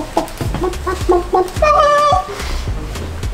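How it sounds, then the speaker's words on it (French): A chicken clucks nearby in a short series of throaty calls, ending in a longer drawn-out cackle. "Il y a une poule là"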